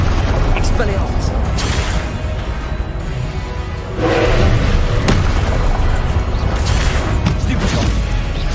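A spell being cast in the video game Hogwarts Legacy, heard as loud, booming magical impact effects over dense game sound, with a sharp burst around the middle and continuous rumbling throughout.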